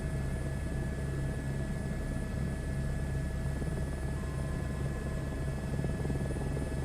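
Helicopter flying in Microsoft Flight Simulator 2024, a loud, even cockpit drone of rotor and turbine with a steady low whine that stays constant throughout and no talk.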